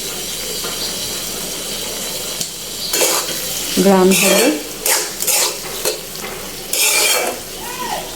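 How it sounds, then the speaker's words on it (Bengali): Kolija bhuna (beef liver curry) being stirred in a pan as roasted cumin powder goes in: a steady frying sizzle with bursts of scraping and stirring. A short spoken phrase passes midway. "ঢাকনাটা খুলে দিব, একটু নেড়ে চেড়ে দিব,"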